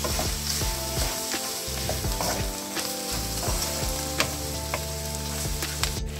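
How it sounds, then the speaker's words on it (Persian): Jaghoor baghoor, a Gilan-style liver dish seasoned with salt, pepper and turmeric, fries in a pan with a steady, close sizzle and the occasional scrape of stirring throughout. "بهش نمک، فلفل و زردچوبه اضافه کنید و همه رو با هم خوب هم بزنید تا بعد از پختن الان باید سرخ بشه"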